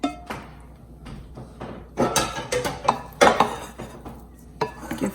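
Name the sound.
shrimp added and stirred into pasta pot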